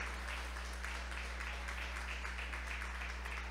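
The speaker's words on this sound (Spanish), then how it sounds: "alguien debería estar dándole un aplauso de alabanza al Rey de Reyes" A congregation gives a round of praise applause in church, a quiet, steady wash of clapping heard at a distance over a constant low hum.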